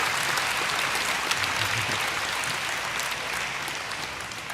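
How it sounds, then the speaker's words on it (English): A convention crowd applauds a presenter at the MINECON 2013 Minecraft panel, an even, continuous patter of many hands clapping that holds steady throughout without any speech. "So give an applause for Ryan"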